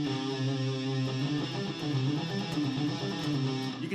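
Electric guitar playing a pentatonic scale, a steady run of sustained picked notes moving through the pattern, clear and close with no talking.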